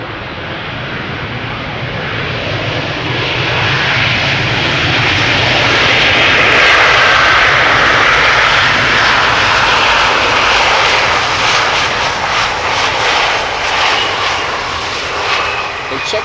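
An Avion Express airliner flying for KM Malta arrives at Amsterdam Schiphol Airport, its engines roaring loudly and steadily as it passes, swelling and then slowly fading, with faint talk mixed in.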